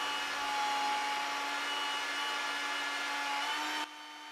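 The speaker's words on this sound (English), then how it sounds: "When the point of that drill comes out into the fillet, there's an unequal stress on the drill as it exits." Steady, loud whine of a drill boring through steel for a knife-grinding jig, the bit breaking out into the fillet; the tone holds evenly, then drops sharply near the end as the bit exits.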